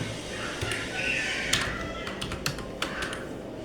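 Quick bursts of typing on a computer keyboard while writing Python code, with irregular clicks and taps close by over a continuous low background and a voice present.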